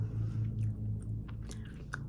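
Grape bubblegum is chewed close to the microphone in a quiet ASMR setting, with soft wet smacks and clicks in an uneven rhythm over a low steady hum.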